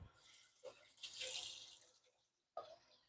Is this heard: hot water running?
yes